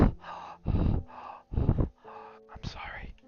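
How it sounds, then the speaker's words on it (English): Heavy breathing close to the microphone, several deep rhythmic inhales and exhales in quick succession, breathy and loud, ending with a gasp. "I'm sorry about the heavy breathing"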